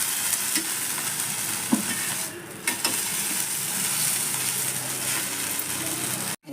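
Urad dal dosa batter sizzling steadily on a hot pan, a continuous close frying hiss with a few brief clinks and a short dip midway, cutting off abruptly at the end.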